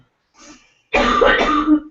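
A faint short sound, then a loud, harsh cough or throat clearing up close, rough and sustained for about a second.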